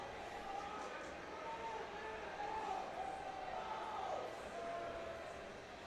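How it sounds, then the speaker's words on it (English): At a collegiate powerlifting national meet, a crowd's rising roar and shouts build for a lifter, a steady, somewhat distant wash of voices with a few louder surges. "Crowd is getting loud for him."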